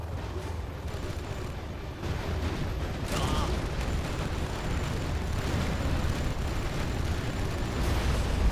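Rolling explosions and gunfire-like blasts as an artillery platform is destroyed in a strategy video game, a dense continuous rumble with sharper bursts throughout and no clear pauses.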